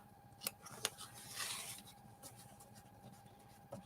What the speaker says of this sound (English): Let's see if I can trim that off.